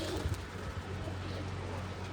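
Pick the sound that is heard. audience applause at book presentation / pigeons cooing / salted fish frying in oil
pigeons cooing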